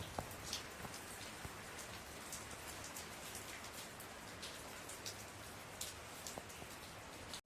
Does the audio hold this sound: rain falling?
yes